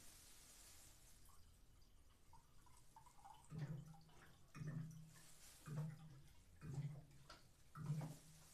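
Someone drinks a small glass of water in a quiet room. Five soft, evenly spaced gulps sound close and faint, about a second apart, with no talking.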